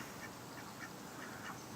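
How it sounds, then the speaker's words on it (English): Ducks quack faintly in a garden, with soft intermittent calls under a steady outdoor hiss. "Hi ducks."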